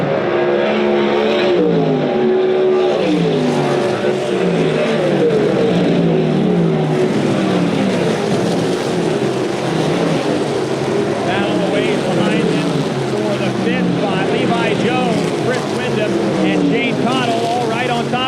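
USAC Silver Crown race cars at the Ted Horn 100 in DuQuoin, Illinois, roar down the straightaway in a loud, continuous engine drone with shifting pitch as the field passes, under constant talk.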